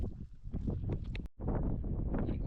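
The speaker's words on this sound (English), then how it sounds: "As I say, it's windy." Gusty wind buffets the microphone with a low, rumbling roar on a Scottish mountain, Ben Donich, cutting out briefly before returning just as strong and steady.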